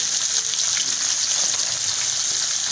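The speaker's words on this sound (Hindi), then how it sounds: "ये देखें, ऐसे करके पहले हम इसको फ्राई करेंगे" Pieces of masala-coated fish fry in hot oil in a restaurant-style Lahori fish fry, giving off a loud, dense, unbroken hiss and crackle with no voices over it.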